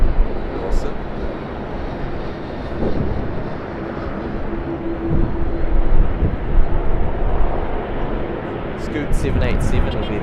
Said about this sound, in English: Hopefully this A330-200 decides to come down runway 25, which it will.